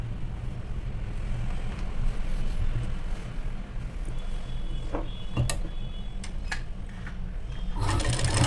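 A sewing machine stitches a churidar sleeve, running in a steady continuous whir with a few sharp clicks near the end.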